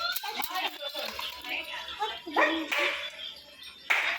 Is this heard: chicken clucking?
no